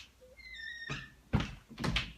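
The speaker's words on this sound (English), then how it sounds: "I'm gonna shut the door." An interior door being shut indoors: a brief creak and swish followed by two close, solid thunks as it closes and latches.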